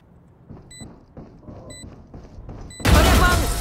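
A single gunshot from the tactical shooter Valorant fired while peeking, with a loud sharp burst near the end after quieter in-game footsteps and movement sounds.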